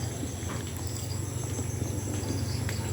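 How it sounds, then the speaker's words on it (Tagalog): Dense, steady cricket chirping fills the background on a road trip to Salakot Falls, a continuous buzzing drone with faint rhythmic pulses throughout, no voices. "Medyo maingay yung mga kuliglig"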